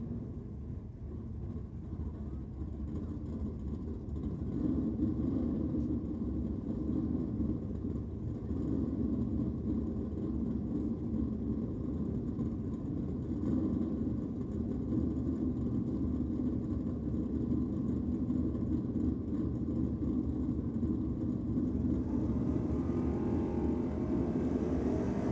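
Holden Torana LX with Holden power and Torana LJ with Chevrolet power at a Sydney drag racing championship, their engines a steady low, distant rumble holding throughout with no one talking.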